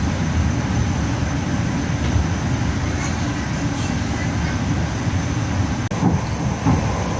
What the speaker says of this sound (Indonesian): kereta api Tegal Bahari posisinya sekarang sudah berangkat dari stasiun Brebes